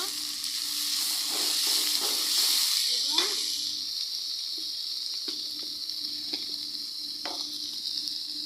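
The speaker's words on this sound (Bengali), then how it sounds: "পেঁয়াজ হালকা গোল্ডেন করবো হালকা গোল্ডেন হওয়ার পরে এখন দিয়ে দিব আমি মরিচ" Onions frying until lightly golden with ground chili paste added, for a chicken and potato curry; a bright, continuous sizzle swells briefly as the paste goes in, then settles into a steady hiss with occasional stirring scrapes.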